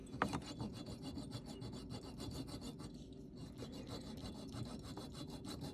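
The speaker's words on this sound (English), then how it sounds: "I've got my tube into my miter vise, and I'm going to cut off a small piece" A small piece of tube held in a miter vise is sawn off for a jewelry stone setting. Quiet, regular back-and-forth rasping strokes repeat steadily throughout.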